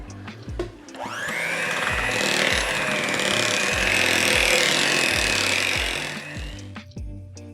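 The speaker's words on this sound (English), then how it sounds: "I'm gonna give this a mix, and then our cream cheese filling part of it is done." Cream cheese filling with vanilla and flour being mixed with an electric hand mixer, a steady loud whirring motor running for about six seconds with rhythmic knocking beats, then switching off.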